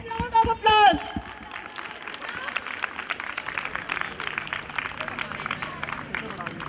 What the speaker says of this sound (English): please parents, give them a big round of applause